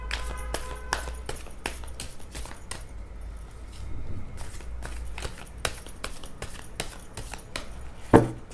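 Tarot cards shuffled up close come as a run of quick soft riffles and flicks in irregular bursts, fairly quiet, ending with a sharper tap.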